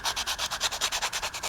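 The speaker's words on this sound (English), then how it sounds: "foot stone to do exactly that, to sand my corners here." Quick, rhythmic scratchy rubbing strokes, about eight per second, as a foot stone sands the corners of a paper pad up close with no talking.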